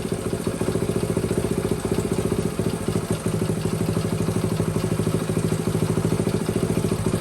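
A Honda XL70 motorcycle engine running steadily nearby, a small single-cylinder putter with even rapid firing pulses and light mechanical clatter, heard alone without talk.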